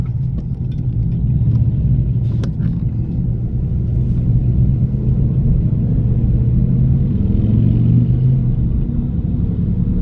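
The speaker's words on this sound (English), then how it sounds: "It's not every day you see these cars just kind of cruising, you know?" Hot rod cars cruise past at a hot rod event, a steady loud low engine rumble running throughout with mild swells as they pass nearby, no one talking.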